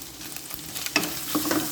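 Shrimp and carrots sizzle as they are stir-fried in a pan for glass noodles, with a steady frying hiss broken by a couple of sharp scraping stir strokes near the end.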